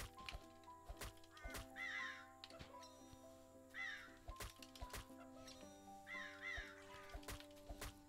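Cawing birds in the video game Starry Knight, several repeated harsh calls in short bursts over a steady layer of game music and tones.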